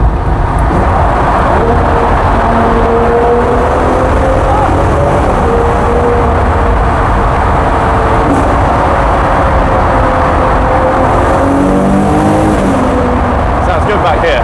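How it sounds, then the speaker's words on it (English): A car engine roaring loudly and continuously as it accelerates through the Hatfield Tunnel, with a booming, echoing rumble, and a voice speaking over it. "It's a good sounding car, what can I say?"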